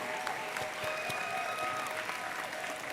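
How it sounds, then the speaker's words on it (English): An audience at a robotics competition event applauds Impact Award winners with steady, moderately distant clapping throughout, with no talking over it. "Another big round of applause to our Impact Award winners"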